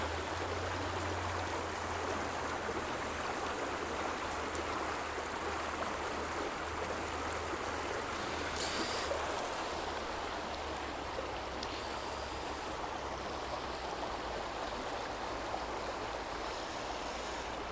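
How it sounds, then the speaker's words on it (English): A river flows in a constant, even rush of water, moderately loud and unbroken throughout, with no voices. "Look at that lovely river."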